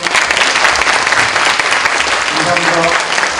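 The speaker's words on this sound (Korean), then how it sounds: "마지막 우리 큰 박수 부탁드립니다." Loud, dense audience applause in a university forum hall after a guest lecture by a high prosecutor, sustained clapping throughout with a voice briefly speaking near the end.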